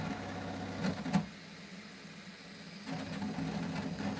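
A Bambu Lab X1 Carbon 3D printer runs with a low mechanical hum, clicking and whirring like a hard drive, plus a couple of brief louder rattles and rising motor buzz.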